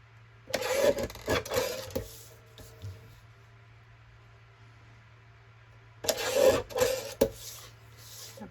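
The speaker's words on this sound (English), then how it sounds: "Let's just trim off the edges because they're a bit messy." Paper journal cards being trimmed along their messy edges, giving two bursts of rasping cutting strokes separated by a quiet pause, close and fairly soft with no talking.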